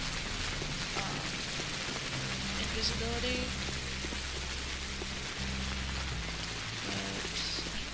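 Steady rain patters across the scene in the video game Pathologic, a dense continuous wash with low droning ambience underneath and someone talking briefly over it.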